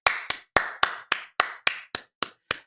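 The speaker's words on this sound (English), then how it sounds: "Can we please clap for him?" Ten loud, close, sharply struck claps land in an even, deliberate rhythm, applauding a Twitch streamer, with silence between each beat and no talk.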